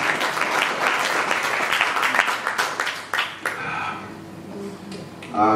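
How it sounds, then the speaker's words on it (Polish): Audience applause at a concert in Kleszczewo in 2014, loud and dense at first, thinning out after a few seconds as the clapping dies down, with a brief louder burst at the end. "Wielkie brawa"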